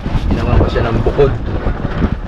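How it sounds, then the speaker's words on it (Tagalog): Strong monsoon wind buffets outdoors, a loud continuous rumbling roar with gusts, while people talk over it. "Guys, lakas nga pala ng hangin."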